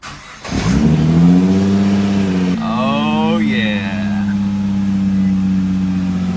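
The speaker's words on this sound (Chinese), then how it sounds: "再次启动后竟然成功了，看着运转正常的发动机，让铁柱开心的就像一个小孩一样。" A Nissan GTR engine, repaired after an accident, fires up with a sudden crank and catch, then settles into a loud, steady close-up idle with a brief rising rev partway through.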